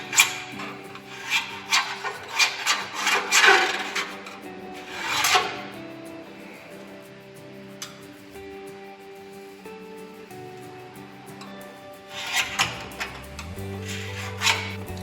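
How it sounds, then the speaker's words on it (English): An awl scratches across the underside of a snow blower part in a run of short, rasping bursts, clustered near the start and again toward the end, close and fairly loud with quieter gaps between. "all I'm gonna do is scratch this on the bottom with an awl"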